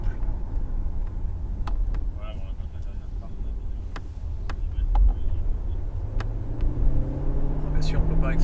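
A DS7 Crossback E-Tense 4x4 hybrid prototype car drives along, its low rumbling engine and road noise steady in the background while someone talks over it and a rising whine builds near the end.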